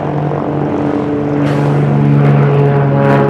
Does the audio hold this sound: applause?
no